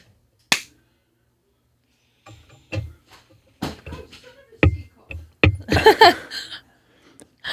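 One sharp hand clap rings out in near silence, followed a moment later by scattered voices and laughter.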